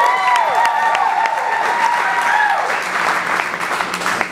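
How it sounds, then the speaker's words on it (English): Wedding guests applaud the bride at an evening reception, a dense, sustained round of clapping that fills the room, with cheers and scattered voices mixed in throughout. "let's also get a big round of applause for our beautiful bride over here, Brandy."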